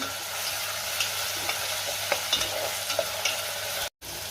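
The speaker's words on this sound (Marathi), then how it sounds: "कांदा मी 1 मिनिटभर परतून घेणार आहे।" Chopped onion for spicy chicken sukka sizzles in hot oil in a pan while a spatula stirs it, a steady hiss with faint scraping taps, close and alone, cut by a brief gap near the end.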